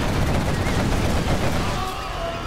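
Quad cannon firing in the real-time strategy game Zero Hour, a dense, continuous burst of rapid automatic gunfire mixed with battle noise, loud and close, easing slightly toward the end.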